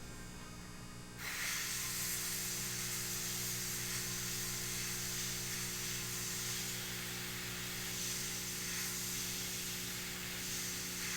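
An airbrush starts up and hisses steadily, spraying paint to clean up overspray on a Space Wolves Contemptor Dreadnought miniature, a close, continuous airy spray over a low hum.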